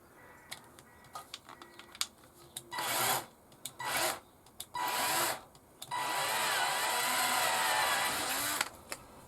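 A power drill whirs in several short bursts, then runs steadily for a few seconds as it bores a hole into a wood board for a steam engine diorama, close and fairly loud.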